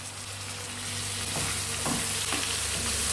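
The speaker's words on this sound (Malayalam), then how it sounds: "ഇനി ഇതിനകത്തോട്ട് ഒരു ടൊമാറ്റോ അതും കൂടെ വഴറ്റുക." Chopped tomato sautés in a pan with ginger and garlic for a Kerala-style mutton curry masala, giving a steady, close sizzle with a few scraping stirs and no talking.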